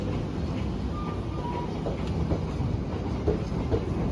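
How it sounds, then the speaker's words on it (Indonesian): The Cikuray train, running with premium economy carriages, passes at a moderate distance with a continuous rolling rumble and faint rhythmic clickety-clack of wheels over rail joints. "Ini sepertinya kereta api Cikuray ya teman-teman"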